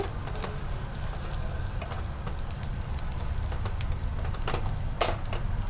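Onions fry in oil for a kaju masala curry, giving a steady, close sizzle throughout with small crackling pops and no talking.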